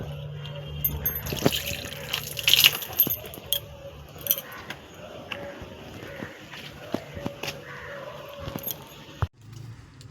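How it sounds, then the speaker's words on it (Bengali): Hands being washed under a running tap, with water splashing and dripping amid clinks and small handling noises, close and moderately loud, ending abruptly near the end. "আর আমি একটু হাতটা ধুয়ে নিই"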